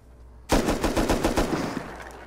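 Rapid automatic gunfire in the survival video game Rust, a loud close burst of evenly spaced shots lasting about a second and a half before trailing off.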